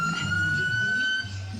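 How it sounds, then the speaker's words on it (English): A steady, high fire truck siren wails continuously at moderate distance over low traffic rumble during a Santa Claus parade in Owen Sound, with no talking. "this is really hard to talk about the sirens"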